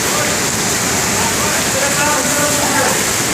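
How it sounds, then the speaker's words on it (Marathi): Waterfall at Marleshwar, a pilgrimage site ringed by forest, crowded with visitors: a steady, loud, full roar of falling water that never lets up, with faint voices from the crowd just audible beneath it. "धबधबा खास करून"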